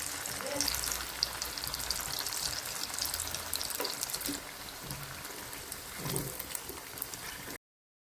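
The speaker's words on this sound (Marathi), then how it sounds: "याला आपण आता तळून घेऊयात" Alu vadi pieces fry in shallow oil with a continuous, close crackling sizzle, a few soft clinks breaking through before the sound cuts off abruptly near the end.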